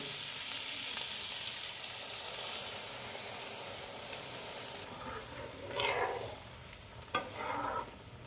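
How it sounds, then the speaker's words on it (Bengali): Frying pan sizzling steadily and close, with a soft broad hiss, then cashew paste added near the end bringing a few wet scraping stirs and a brief clatter, no voices. "এখন আমি কাজু বাদাম বাটাটা দিয়ে দিব"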